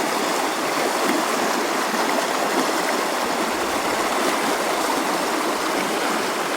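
Rapids on the Root River, a steady, loud rushing of fast-flowing water close by, continuous throughout with no voices.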